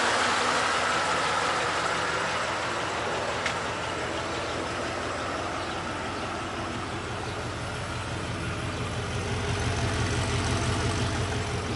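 A Holden Monaro CV8 with its V8 engine idles close by in a steady, deep, rumbling burble that stays loud and even throughout, with no one speaking.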